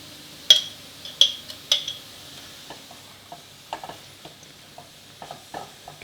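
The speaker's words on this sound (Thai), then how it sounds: "คล้าให้ซอสเคลือบกับผักโขมให้ทั่วเลยครับ" Spinach being tossed through pasta sauce in a pan for a spinach fettuccine, starting with three sharp utensil clinks against the pan and giving way to softer, scattered scraping stirs, close and alone with no talk.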